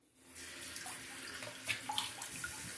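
Cold water runs steadily from a bathroom tap to rinse a freshly shaved face, a continuous close hiss and splash with small bursts of splatter throughout.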